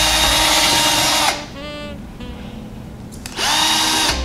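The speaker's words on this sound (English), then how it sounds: "I'm just going to drill right down the middle" A power drill whirs loudly drilling through a cork, stops for a couple of seconds of quieter handling noise with a brief whine, then starts up again.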